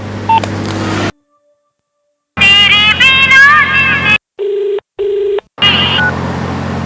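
A phone ringtone plays a melodic tune in clear bursts, broken by silent gaps and two short beeping tones, with a low background hum.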